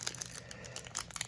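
Foil wrapper of a Rush Duel trading card pack crinkling and being pulled at, a brief close burst of dense crackly rustling with no talk.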